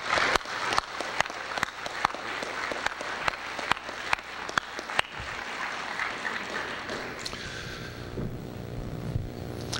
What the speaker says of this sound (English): let's hear a round of applause for George Smith